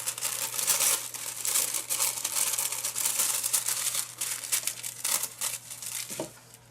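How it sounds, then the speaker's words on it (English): Paper rips along a tear ruler in a long, crinkly, rustling tear that runs close and fairly loud for several seconds before tapering off. "Now I do have a ruler that tears."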